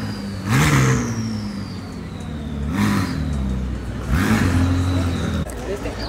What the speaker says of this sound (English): Listen to all that turbo noise